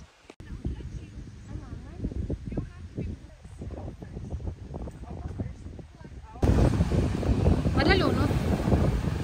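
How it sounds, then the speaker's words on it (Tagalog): Wind blusters across a lake near a playground, buffeting the microphone in gusty rumbles that grow louder near the end, with people talking over it. "Mahangin."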